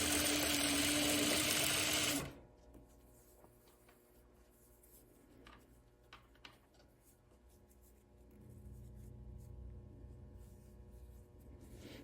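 A sewing machine stitches a Francisca tie top, whirring loud and close for about two seconds before stopping abruptly, leaving quiet room tone and a low hum that swells near the end.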